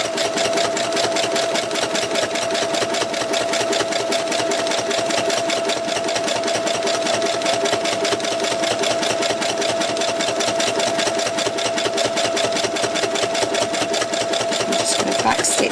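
A sewing machine runs continuously as it stitches along the edge of an oven mitt, its needle beating in a fast, even rhythm at close range for the whole stretch.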